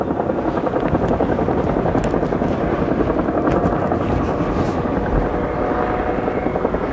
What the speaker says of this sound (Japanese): 観測ヘリコプター OH-1 が空中から偵察を行います。